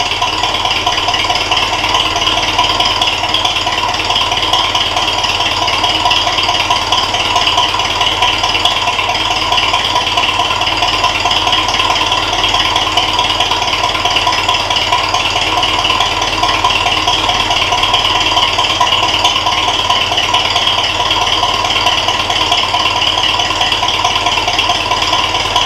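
Ferguson tractor engine idling, a steady loud rattling drone with a buzzy metallic edge, continuous and unchanging throughout, no voices.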